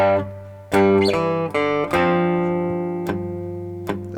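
Bass notes picked on a cigar box guitar, several deep plucked tones struck one after another, each ringing out and slowly decaying before the next, close and clear with no talking.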